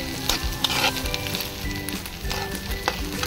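Diced potato sautéing in a pan before sabudana goes in, a dense continuous sizzle with occasional spoon scrapes and clinks, close and steady.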